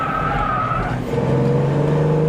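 An MR2 or M4 slides sideways on the Snetterton race track, its steady, loud engine drone shifting pitch midway as the car loses grip, with a hint of tire scrub and no talk.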